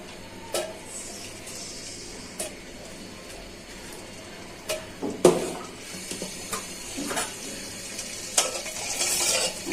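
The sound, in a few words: cardamom and cinnamon frying in hot oil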